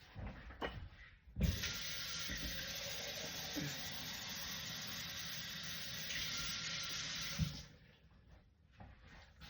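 Tap water pours into a cooking pot in a home kitchen, a loud, steady rushing stream lasting about six seconds, with clunks as the tap opens and closes and quieter kitchen noise on either side.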